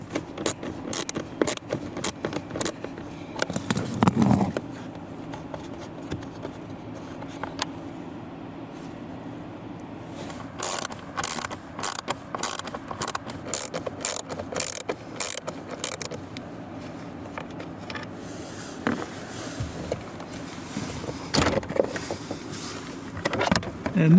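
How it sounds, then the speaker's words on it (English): A small ratchet fitted with a Torx 20 bit works screws on a 2019-2026 Lexus UX blower motor, giving rapid close clicking runs in several bursts with brief pauses and some handling noise. "In order to access all of them, we need to use a small ratchet."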